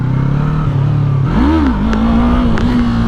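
A 2020 Yamaha MT-03 motorcycle engine, ridden in first gear on a downhill slope, idles steadily and then revs sharply up and back down in one loud, close burst before settling into a higher steady drone.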